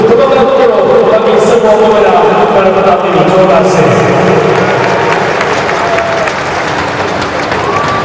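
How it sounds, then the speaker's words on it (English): Spectators in a stadium at the 29th SEA Games 2017 athletics finals applaud the winners, a broad steady wash of crowd clapping and cheering that holds loud from start to finish, with a faint murmur of voices underneath. "Please give a big round of applause to all winners this afternoon"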